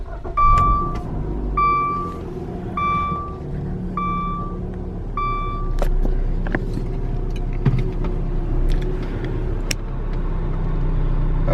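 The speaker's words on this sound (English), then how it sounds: "So this is just backing out of the garage." A car backing out of a garage at night: a low engine rumble runs throughout with a series of five evenly spaced reversing beeps near the start, plus a few faint clicks.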